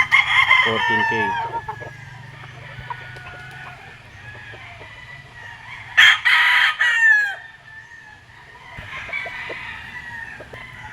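A Sweater gamefowl rooster crows loudly and close on a game farm, with a first crow at the start and another sharp crow midway, amid clucking fowl; someone talks briefly between the calls.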